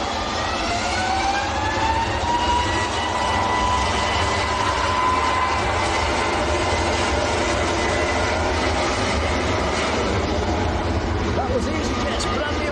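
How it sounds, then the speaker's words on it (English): EasyJet Airbus A321neo departing Manchester Airport, a loud sustained jet roar with a rising whine, steady throughout, with talk over it. "That was EasyJet's brand new aircraft,"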